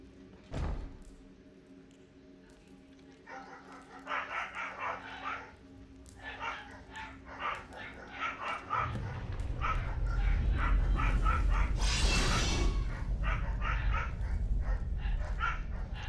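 Neighbors' dogs bark in repeated yapping bursts through the span, moderately distant, later mixed with a steady rumbling background and a brief louder rushing noise.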